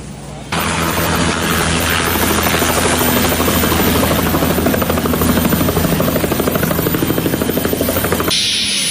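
A helicopter roars close overhead at an outdoor political rally, loud and steady, its blades chopping in a fast rhythmic thud that cuts off abruptly near the end.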